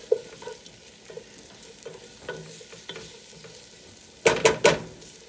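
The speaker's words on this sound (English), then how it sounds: "just give that a good stir" Chopped onions and diced ham are stirred in a hot pan for pasta fagioli. A soft sizzle runs throughout, broken by light scrapes, and a few louder, sharp scraping strokes come close together near the end.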